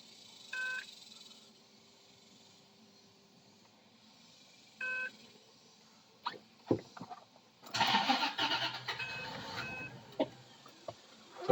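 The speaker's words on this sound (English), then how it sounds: "So it only starts for a second and then it dies." A 2002 Bentley Arnage T cranks with an intermittent whir, then catches for a brief rough burst of engine noise before dying, ending in clicks and a final thump; quiet and close, with no talk.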